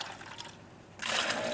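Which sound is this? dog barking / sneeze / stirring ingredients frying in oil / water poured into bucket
water poured into bucket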